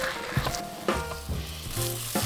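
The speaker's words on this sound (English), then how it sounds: "Start mixing right away. I like using a wooden spoon because it offers better leverage and control for kneading thick dough." Thick choux pastry dough being stirred in a pot with a wooden spoon, a few close scraping, slapping strokes over a faint sizzle from the hot pan, with no talking.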